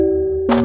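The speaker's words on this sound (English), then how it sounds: "Chinese bao gongs" A Chinese bao gong sounds as a sustained pitched ring, then a sharp new strike bursts in with a bright, noisy attack and a lower shimmering tone, loud and close.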